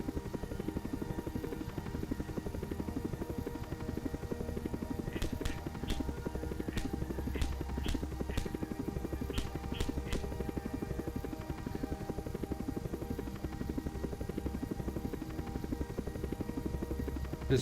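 A steady low rotor drone runs throughout with a few sharp clicks partway through, like a game helicopter hovering close by.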